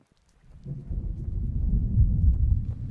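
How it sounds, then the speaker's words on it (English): Deep rolling thunder in a video game, rising from near silence into a loud, sustained low rumble that swells and lingers for several seconds with a hiss like rain, no voices. "God, I love thunder in this game, man. It sounds so cool."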